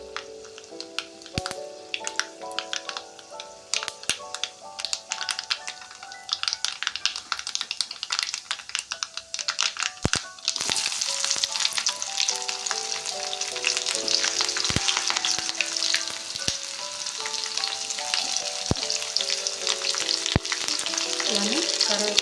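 Onions frying in hot oil with mustard seeds and urad dal for a dondakaya masala curry: loud continuous sizzling with rapid crackling pops and spatters throughout, intensifying partway through, with no voices.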